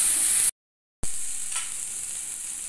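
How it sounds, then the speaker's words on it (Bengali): Ground spice masala for boiled egg masala is stirred and fried in oil, with a bright, steady sizzle and soft scraping. The sound cuts out completely for half a second before resuming. "আবারও সমস্ত মশলাকে ভালো করে কষিয়ে নিতে হবে যতক্ষণ না মশলা থেকে তেল ছাড়ছে।"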